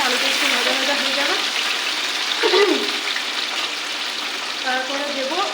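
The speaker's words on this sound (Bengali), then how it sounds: "আলুটা একটু ভাজা হয়ে যাবে" Potatoes frying in a pan for a cabbage dish give a steady close sizzle throughout, with faint stirring scrapes partway and a voice-like tonal sound now and then in the background.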